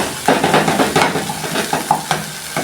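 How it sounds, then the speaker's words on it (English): Beef and tomatoes being stirred in a pan produce close, loud, rhythmic scraping and sizzling strokes that repeat steadily without pause. "now let's mix it all together with the meat"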